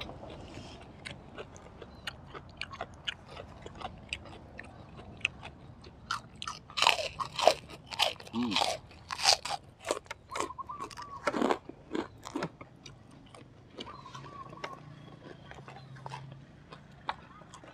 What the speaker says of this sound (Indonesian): Saya akan makan sensasinya ikan asin dimakan bareng petai.